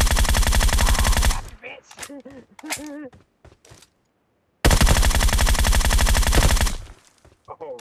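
Loud, rapid automatic gunfire from a video game comes in two long bursts separated by a short shouted exclamation and a stretch of near silence.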